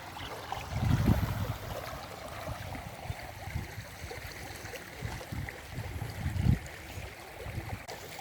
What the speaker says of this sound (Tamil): இந்த கண்மாய்க்கு வர்ற தண்ணி வந்து எவ்வளோ வேகமாக போகுதுன்னு பாருங்கள்